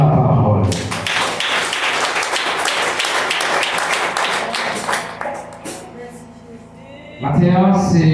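A church congregation applauds after the Gospel reading at a Catholic service, a dense, loud wash of many hands clapping that builds, holds for several seconds, then thins out before a voice starts speaking.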